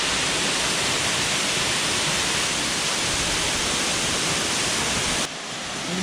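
River water rushes steadily at Alue Meuh, Sawang, North Aceh, a dense, loud broadband roar that runs constant for about five seconds before dropping slightly at the end, with no voices.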